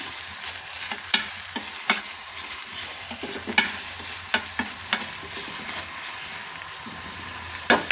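Onions frying with salt in a pan for paneer fry, a continuous close sizzle punctuated by regular clicks and scrapes of a spoon stirring against the pan.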